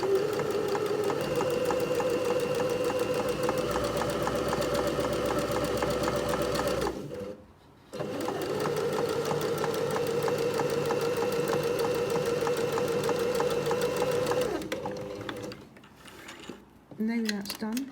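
Sewing machine running steadily as it stitches a narrow fabric hem, a close, continuous whirring hum that stops briefly for a second or so and then resumes, ending in short bursts.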